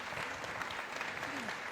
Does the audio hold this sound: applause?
yes